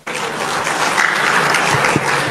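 Santri, Islamic boarding school students, burst into loud, dense applause at a religious talk, with sustained close clapping that fills the whole moment.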